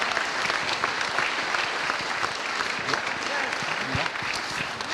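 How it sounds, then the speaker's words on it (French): A large audience applauds steadily at an awards evening honouring local businesses, dense continuous clapping holding at an even level throughout, with a voice faintly audible beneath it. "on vous applaudit encore"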